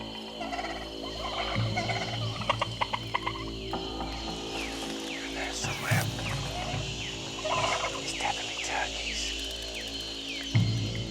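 Wild turkeys gobble repeatedly in a jungle on a remote island, loud bursting calls rising over a steady background of insects and frogs, with a few brief voices in between.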